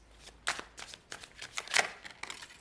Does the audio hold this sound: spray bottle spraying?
no